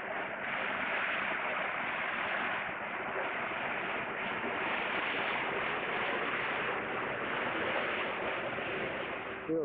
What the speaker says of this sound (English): Waterfalls, all this tropical vegetation.